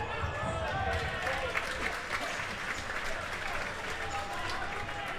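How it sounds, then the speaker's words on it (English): A futsal crowd applauding England players at a Euro qualifier against Spain, a steady distant wash of clapping and cheering heard under a commentator's talk. "you can still sense the crowd there, appreciate the efforts of the England players and still behind them massively"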